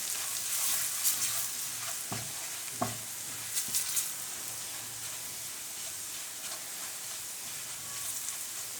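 Spices and coarse chili powder lightly frying in a pan for samosa stuffing, giving a steady soft sizzle with a few brief stirring scrapes and clicks, close by and with no talking.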